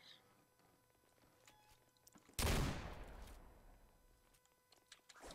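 A sudden loud burst of gunfire in the Roblox game Criminality starts abruptly and then fades through a lingering tail against quiet game ambience.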